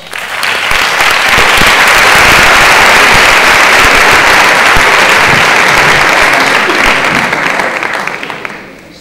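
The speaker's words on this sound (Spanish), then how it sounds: "un fuerte aplauso." Loud, sustained audience applause for the folk group Birloque at a Rioja folklore gala, dense clapping that builds, holds steady and tapers off at the end.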